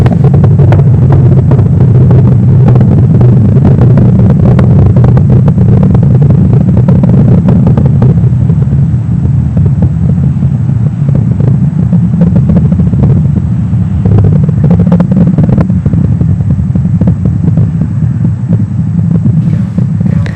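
A deep, continuous roar rumbles steadily throughout, heavy low-end with some crackle, like a distant rocket engine thundering during ascent: a SpaceX Falcon 9 launch on a Starlink mission.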